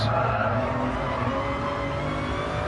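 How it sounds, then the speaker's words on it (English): GT3 race car in an endurance racing video game, tires squealing for grip through a hillside corner, a steady, loud, sustained screech blended with engine roar and no talk. "you can hear his car screaming for grip as it goes around the corners"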